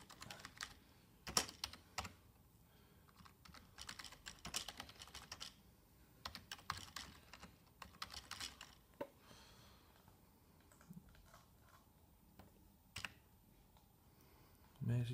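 Fingers type on a computer keyboard to enter a postal address into a form, a quiet run of irregular clicking keystrokes in bursts with pauses between.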